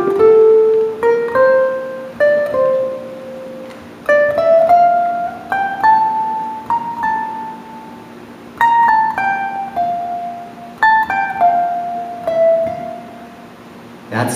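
A ukulele picks out a right-hand melody, clear plucked single notes in a steady, unhurried line with ringing harmonics, played alone and close with no talking.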